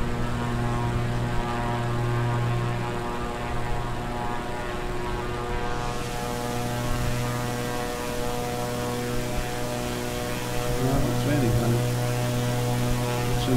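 Light propeller airplane engine drones steadily and loudly from inside the cabin during a left turn in the traffic pattern, a continuous tonal hum with slight shifts near the end.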